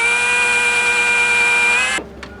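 A power drill bores holes into teak boom gallows on a boat, a loud steady high-pitched whine running for about two seconds before cutting off abruptly, followed by faint handling sounds.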